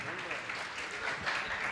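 Audience applause at a Hindi comic poetry gathering, a steady wash of many hands clapping that fills the whole stretch with no clear break.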